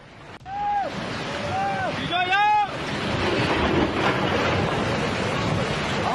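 Floodwater of a swollen river near Ranikhet rushes as a steady, broad roar, with brief voices and whistle-like tones over it at the start before the water noise carries on alone.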